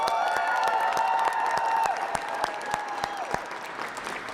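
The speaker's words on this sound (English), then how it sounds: "let's give everybody a round of applause for all your help" Audience at a press conference for a sponsored bill applauding steadily, dense overlapping claps at close range with a few louder individual claps standing out, tapering slightly toward the end.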